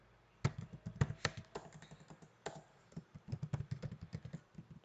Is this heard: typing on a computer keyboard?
yes